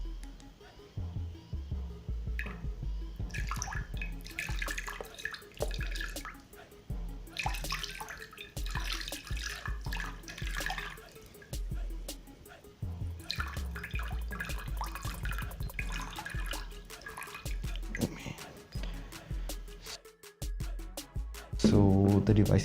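Water from a bottle splashing and dripping onto a Samsung Galaxy J7 Pro phone, a steady wet spatter running almost continuously at close range with a few brief breaks.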